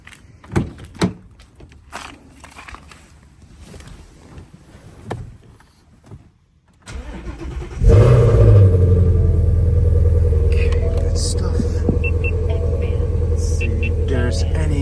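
A 2019 Ford Mustang engine, just back from an alternator repair, cranks briefly after some quiet clicks and handling noises, then catches and settles into a loud, steady, rumbling idle close by.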